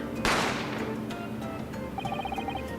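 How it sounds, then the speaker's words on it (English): A single sharp gunshot from the Great Ace Attorney video game cracks out loudly and decays quickly, followed by faint ticking game sounds and no voices. "A gunshot rang out"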